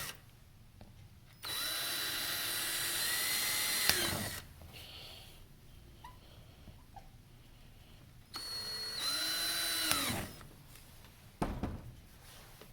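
A power drill runs in two sustained whining bursts of a few seconds each, with a short quiet gap between them, spinning up and winding down at close range.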